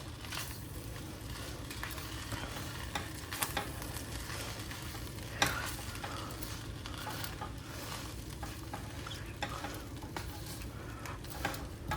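Shrimp being stir-fried for pineapple fried rice, a steady close sizzle with scraping and stirring clatter running throughout, no talking.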